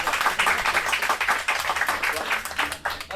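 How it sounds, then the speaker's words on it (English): Audience applause and clapping as a speaker walks on stage at a live business event on a yacht in Dubai, a dense, steady wash of hands filling the whole stretch. "Now I get a round of applause."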